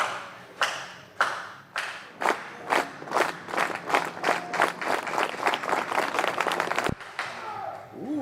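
Spectators clap in a steady rhythmic beat at an elite men's discus throw competition, the claps quickening and growing denser before a final sharp burst, with faint crowd noise underneath.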